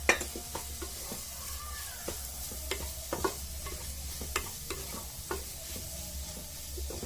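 Maggi noodles with their masala fry in a pan under a soft, constant sizzle, broken by frequent light clicks and scrapes of a spoon stirring against the metal, with no one talking.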